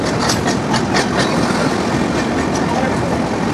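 A Puri–Shalimar Dhauli Superfast Express pulls into a station after a journey from Puri, giving a loud, steady rumble with rhythmic clicking of wheels over rail joints and a busy platform wash of background voices.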